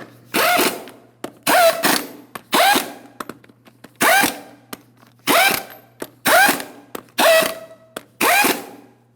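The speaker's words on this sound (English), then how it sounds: "Let's go ahead and torque each one of our lug nuts to 140 foot-pounds in a crisscross manner." Torque wrench tightening the lug nuts on a 2007-2014 GMC Sierra 2500 HD rear wheel, with eight sharp, loud ratcheting bursts in an even rhythm and short pauses between them, close up with no talking.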